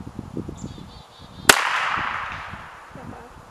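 A single sharp handgun shot fired at a target cracks loudly and decays over a couple of seconds, with people talking quietly before and after it.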